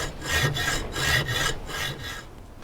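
A spindle on a 1941 His Master's Voice model 411 console radio is cut down and slotted for a knob: about five rhythmic back-and-forth rasping strokes, close and steady, then trailing off.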